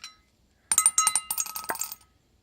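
Dice clatter for about a second and a half during board game setup, with a cluster of sharp, bright clicks as they tumble and settle on a table, then quiet.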